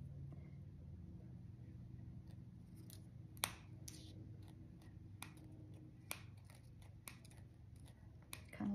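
Scissors cutting material for a Valentine-themed wine bottle floral attachment: several sharp, quiet snips spaced irregularly over a low background hum, with no talking.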